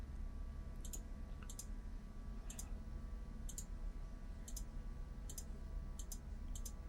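A computer mouse clicks repeatedly while editing in Photoshop, about a dozen faint, crisp single clicks spaced irregularly over a low steady hum, with no talking.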